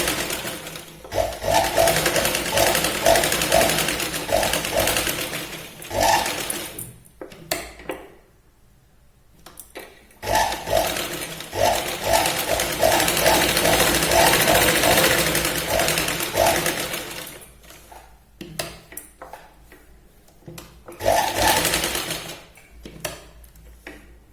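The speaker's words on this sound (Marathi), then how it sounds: "नंतर आता गळ्याला आहे तशी आपण इथे पूर्ण शिलाईन लावून मॅच करून घेऊया." A sewing machine stitches the boat neckline of a cross-cut blouse, running in long, loud, steady whirring bursts with brief pauses between runs, close by.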